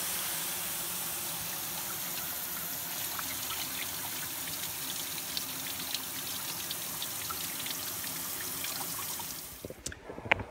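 Water trickles steadily over a sailboat during a leak-repair water test. The soft, continuous dribble runs alone for about ten seconds, then cuts off, followed by a couple of faint knocks.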